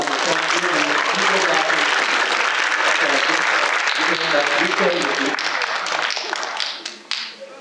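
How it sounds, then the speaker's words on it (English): A crowd applauds a female volunteer brought up on stage, a thick burst of clapping that stays strong, then thins into scattered claps and dies away near the end. "Give her a round of applause."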